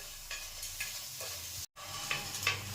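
Pieces of green chili and mango ginger fry in a pan with a low, even sizzle and occasional stirring scrapes, quiet and close, broken by a momentary drop to silence midway.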